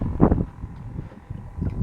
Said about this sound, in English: It's windy. It is real windy out here.